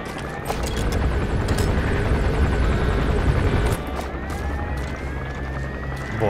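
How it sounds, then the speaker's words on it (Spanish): A support helicopter arriving in Metal Gear Solid V: a loud, steady rotor drone that fills the scene and drops slightly in level partway through, with game sound effects layered over it. "Ya da igual, ya he pedido apoyo de helicóptero"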